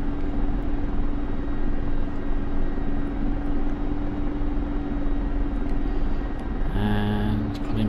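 Mi-24 Hind attack helicopter in the DCS flight simulator, a steady loud rotor and turbine drone with constant low thump, close and continuous, with a brief tonal warning-like change near the end.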